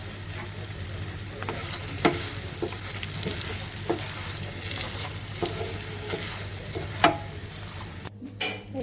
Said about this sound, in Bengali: ভাজা শেষ হয়ে গেছে উঠাই নিচ্ছে আর একটা ভাজছে